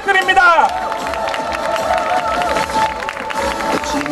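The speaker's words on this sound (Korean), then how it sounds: "여러분, 황교안 후보 큰 박수 부탁드립니다" At an election campaign rally, a crowd cheers and claps, a dense roar of voices and applause mixed with shouting and an amplified announcer's voice throughout.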